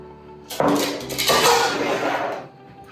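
Sugar, whole egg and melted butter being mixed in a bowl, a clattering utensil scraping and clinking against the bowl for a couple of seconds, fairly close.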